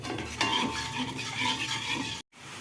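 Vegetable soup (sayur sop) with boiled eggs being stirred in a pot of boiling water, a steady scraping and sloshing of utensil against metal throughout, close and moderately loud, with a brief dropout near the end.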